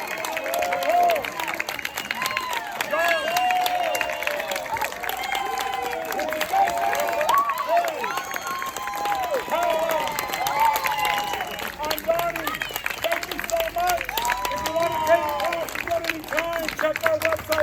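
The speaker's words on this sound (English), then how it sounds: "Let's give them all a big round of applause." A crowd claps and cheers for the players, with applause and whoops mixed into lively overlapping chatter and voices throughout.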